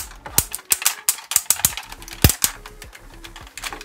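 Ratcheted leg joint on a black Transformers Armada/Energon Supreme Class Unicron toy clicks through a rapid, uneven series of sharp plastic clicks, close and fairly loud, with no talking.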